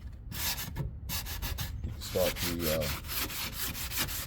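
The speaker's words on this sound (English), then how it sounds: "This is what I gotta do until I get these all sanded down" Wood being sanded by hand during home improvement work, a close, rhythmic scratchy rubbing in repeated strokes, with a brief voice-like tone partway through.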